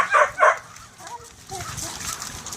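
Two sharp dog barks up close at the start, followed by quieter whimpering and background noise.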